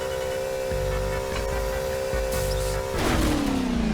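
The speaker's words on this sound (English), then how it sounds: "my main issue with it is the ridiculous speed of these cars" A fast car speeds along in the Garry's Mod video game, its steady engine hum and drone running the whole time, then shifting upward into a louder, higher whine near the end as it races at extreme speed.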